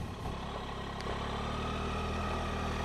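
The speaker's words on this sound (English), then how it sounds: "We're just idling here in what, 8 miles an hour it looks like in first gear, about 1200 RPM." A 2019 Triumph Tiger 800 XCx engine runs at a low, steady idle of about 1200 RPM in first gear, a continuous rumbling drone heard close up with a faint mechanical clatter.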